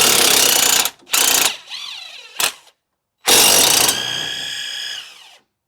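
A power tool spins out 7mm Allen key bolts from a Fiat front brake caliper in loud, close bursts: several short whirring runs followed by one longer sustained run that winds down.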